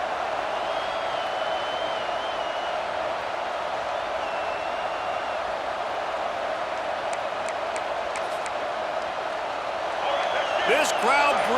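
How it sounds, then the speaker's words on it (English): A stadium crowd in the EA Sports College Football 26 video game roars with a steady, broad wash of noise, while a commentator talks over it and the sound swells slightly near the end. "This crowd bringing the energy and noise early."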